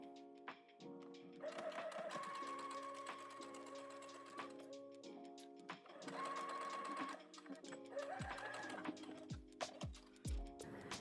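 Sewing machine stitching bra casing bias onto the seam allowance of an underwire bra, a steady close motor whir in two long runs, with short pauses, clicks and handling knocks between.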